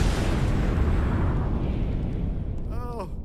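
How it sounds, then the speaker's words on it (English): Pyrotechnic explosions go off at an esports championship walkout, a dense, loud, sustained roar and rumble that gradually eases, with a brief voice rising near the end. "is it just me, or does that seem like a lot of explosions?"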